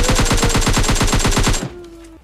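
Rapid automatic gunfire from a weapon in PUBG Mobile Lite: a loud, close burst of evenly spaced shots for about a second and a half, then a sudden stop leaving a faint ringing tone.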